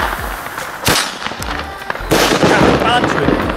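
Sharp New Year's Eve firecracker bangs burst out in quick succession, loud and close, with crackling bursts and a voice talking in between.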